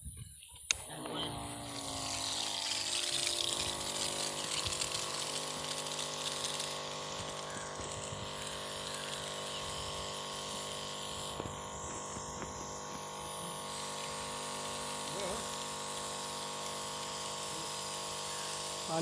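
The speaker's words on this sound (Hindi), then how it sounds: "देखिए अब पानी डाला जाएगा।" Water pours steadily onto a chilli seed bed, likely from a pump, making a continuous rushing wash with a steady hum beneath it that carries on without a break.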